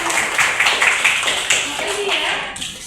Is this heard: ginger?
no